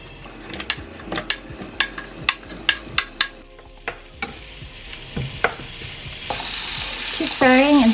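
Onions frying in a pan, stirred with a steady sizzle under a run of rhythmic scraping clicks from the utensil; the sizzle swells louder toward the end.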